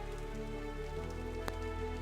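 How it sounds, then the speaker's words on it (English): Rain taps steadily against windowpanes on a cold evening, a soft continuous patter with one brief sharper drop, heard alone with no voices. "rain gently tapped against the windows, while the fire crackled warmly inside the old stone fireplace"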